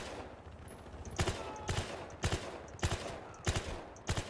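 Bursts of rapid gunfire from the video game Battlefield Hardline, fired in short volleys about every half second to second, loud and close over a steady background rumble.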